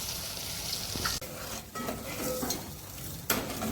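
A spoon stirs sweetened, salted dabeli masala in a pan over a gas flame for Kutchi dabeli, with soft scraping and sizzling throughout and a few sharper utensil knocks against the pan.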